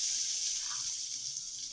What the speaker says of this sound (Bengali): এই যে আমি মিষ্টি কুমড়ো ভাজছি